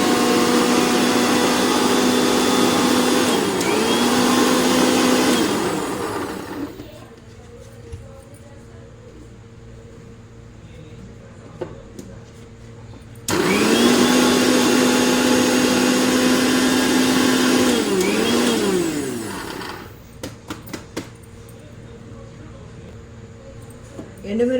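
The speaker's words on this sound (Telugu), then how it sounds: "ఎండుమిరపకాయలు, పప్పు దినుసులు, ఇప్పుడు వేపుకున్న పప్పు దినుసులన్నీ వేసి ఇలా పట్టుకుంటున్నానండి" A mixer grinder powders roasted dry red chillies and lentils in two loud, whirring bursts of several seconds each, separated by a quieter pause with small clicks and handling noises.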